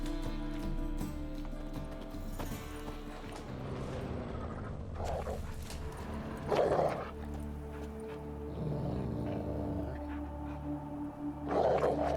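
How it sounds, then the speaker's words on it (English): Dogs bark and growl in The Witcher 3, a few sharp barks standing out at intervals over a steady bed of game music and ambience, moderately close. "Just beware of the dogs."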